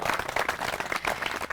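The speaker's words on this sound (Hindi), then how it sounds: "बाकियों से गुजारिश है जोरदार तालियां बजाइए दीजिए इनके लिए" A crowd applauds a woman farmer at a farmers' quiz event in Udaipur, Rajasthan, with steady, dense clapping throughout and no voices on top.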